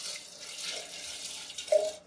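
Water is poured from a glass into a cooking pot that holds boneless beef, a short close splashing trickle that swells briefly near the end and then stops.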